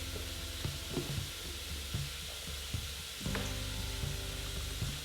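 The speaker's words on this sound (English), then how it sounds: "So let's cook these onions and garlic for about 2 minutes and just stir them." Onions and garlic sizzle in a pan while a utensil stirs them, giving a steady fry hiss with periodic scraping knocks close by; no one talks.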